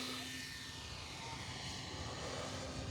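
An E-flite Timber 10th Anniversary Edition 1.5 m electric RC airplane takes off downwind with its flaps deployed, its motor giving a steady, fairly close buzzing whine under wind noise.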